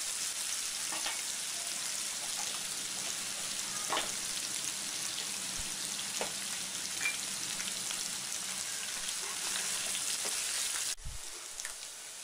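Ginger garlic paste frying in hot oil for mutton liver fry, a dense, steady close-up sizzle with faint spatter pops and occasional stirring taps, ending with a sudden thud.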